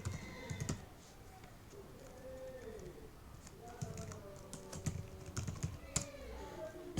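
A password typed on a computer keyboard, quiet clusters of key taps in short bursts, with a pigeon cooing faintly in the background.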